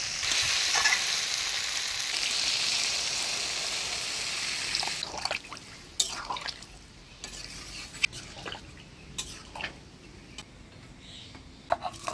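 Potatoes and pointed gourd frying with spices in a pan, a dense steady sizzle that breaks off abruptly when water is poured in, leaving a quieter simmer marked by scattered sharp clinks and scrapes of a spoon.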